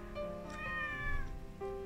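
A cat meows softly nearby in a couple of drawn-out, tonal calls over a quiet room hum, with no talking.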